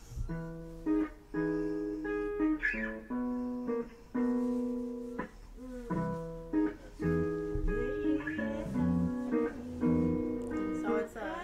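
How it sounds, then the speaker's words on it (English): Guitar playing a rough demo of a song, with bright plucked notes and chords in an uneven, halting rhythm, moderately quiet and with no voice over it. "This is me on guitar too."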